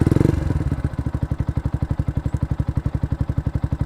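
A Yamaha YZF-R125 motorcycle with a loud aftermarket exhaust idles close by at about 1,000 rpm, a deep, rapid, even thumping pulse after a brief louder rev at the start.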